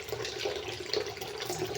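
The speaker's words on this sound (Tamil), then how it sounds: "இங்கே தண்ணி வந்து லைட்டாக தெளிக்கிற சத்தம் கேட்குது" Water sputters and crackles softly in hot oil in a pan, with a steady faint hiss and scattered small pops over a short stretch.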